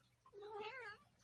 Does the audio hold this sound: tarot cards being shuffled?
no